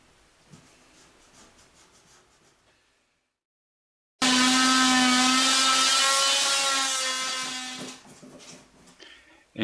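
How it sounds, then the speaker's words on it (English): Plastic shower waste pipe being cut with a saw: after quiet handling and a short silence, a loud, steady, ringing sawing stroke runs for about four seconds and then fades into light clatter. "we mark the pipe in the exact place we're going to cut it so it fits into the spigot of the waste"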